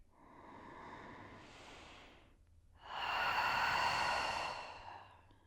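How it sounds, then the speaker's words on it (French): Two deep, close breaths fill a quiet room during a yoga stretching session: a soft inhale through the nose, a short pause, then a longer, louder exhale through the mouth. "On va prendre encore une profonde respiration ici."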